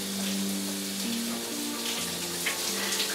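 Steady broadband rush of shower water running, loud and continuous with no breaks, alongside a faint low tonal hum and no talking.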